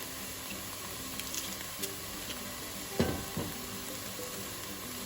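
Onions softening in a pot on the stove with garlic tipped in: a low, steady sizzle of frying runs throughout, with a couple of brief stirring or dropping sounds near the middle.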